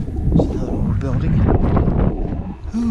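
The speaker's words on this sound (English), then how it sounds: "that wind is blowing behind me and it's cold" Cold wind gusts roar and buffet the microphone on a muddy trail with snow and ice near Buena Vista, Colorado, rumbling loudly and continuously while someone speaks.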